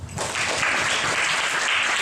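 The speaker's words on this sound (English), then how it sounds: "Sorry, round of applause." A crowd breaks into steady, close applause that swells quickly and keeps going with dense, even clapping.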